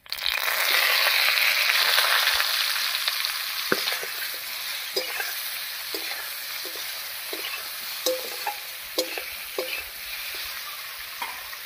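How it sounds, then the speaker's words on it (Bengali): Taro pieces fry in a little oil with five-spice tempering and green chillies, a loud sizzle at first that settles into a softer hiss broken by repeated scraping stir strokes, close up. "এই অবস্থায় কচুটাকে একটু ভাজা ভাজা মতো করে নেব"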